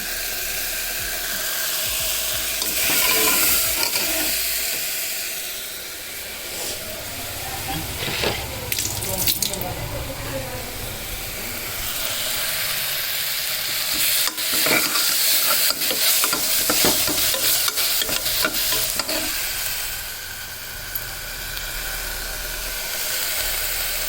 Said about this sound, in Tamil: இஞ்சி பூண்டு பேஸ்ட் 1 ஸ்பூன் போட்டுக்குவோம். நல்லா பச்சை வாசனை போகிற வரைக்கும் நல்லா வதக்கிக்குவோம்